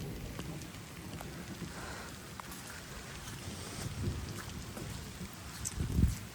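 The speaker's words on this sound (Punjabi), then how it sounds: "ਬਾਰਿਸ਼ ਯਾਰ ਤੇਜ਼ ਲੱਗੀ" Heavy rain pours down in a steady, dense hiss that continues throughout, with a brief duller thump near the end.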